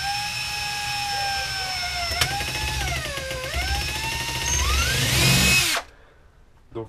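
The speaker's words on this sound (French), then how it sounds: "Pour percer, j'utilise un foret de 6 mm." A power drill with a 6 mm bit bores into a plastic clamp arm held in a vice, its motor whine loud and steady, dipping and climbing in pitch as the bit bites, then stopping abruptly near the end.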